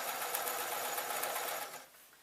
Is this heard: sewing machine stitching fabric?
yes